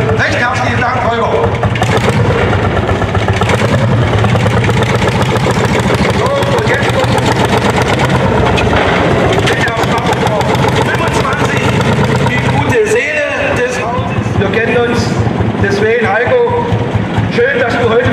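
A post-war Lanz Bulldog tractor with a 10.3-litre displacement runs at a harvest festival tractor parade, its engine chugging steadily beneath continuous German commentary over a loudspeaker, with outdoor crowd noise around.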